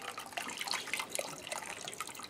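Water poured from a container over the crushed foam nose of a Durafly Tundra model aircraft during a warm-water repair, a steady splashing and trickling pour heard close up throughout, with no talking.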